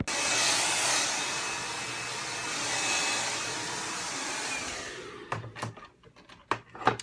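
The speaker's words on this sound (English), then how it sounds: "I'm gonna blow dry my hair." A hair dryer runs with a steady loud whooshing roar for about five seconds while blow drying hair, then cuts off, followed by several sharp handling knocks and clicks close by.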